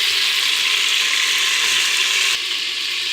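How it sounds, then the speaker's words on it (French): Sliced onion frying in a pot, a steady broad sizzle holding evenly throughout, slightly quieter near the end, with no talking. "je vais mettre à revenir, donc à dorer, mon oignon émincé"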